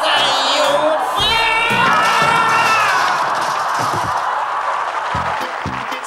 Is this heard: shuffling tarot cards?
no